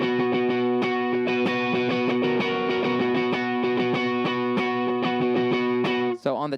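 An electric guitar plays a riff through heavy distortion, with crisp, evenly paced picked notes and chords ringing loud and close before the playing cuts off abruptly at the end.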